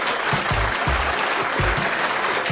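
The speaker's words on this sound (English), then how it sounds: "So let's give a round of applause" Applause from the audience of a 49ers vs Cardinals pregame talk show, a steady broadband clapping wash that holds for the whole stretch, with a few low thumps beneath it.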